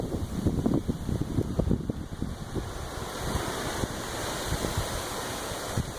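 Strong gusty wind blows across a barn on a windy day, a loud, continuous rushing roar with buffeting bursts on the microphone, heaviest in the first two seconds and steadier afterward, with no voices.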